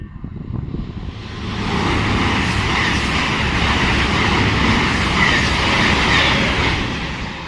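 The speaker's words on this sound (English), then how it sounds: "the train giving it the beans through here is a Voyager" A Voyager train speeds through Watford Junction on the West Coast Main Line, a loud, sustained roar that swells quickly and holds steady, passing close by with no talking.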